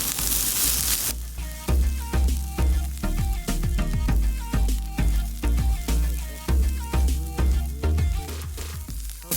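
Broccoli fried rice stirred in a hot pan, a constant sizzle broken by regular scraping strokes of a utensil against the pan, roughly one every second, close and clear.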